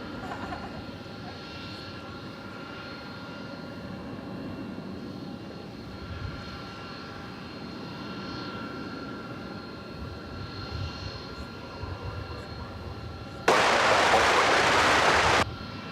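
An airplane rumbles at DFW Airport at night, a steady distant engine roar that swells and fades, with a sudden loud burst of noise near the end.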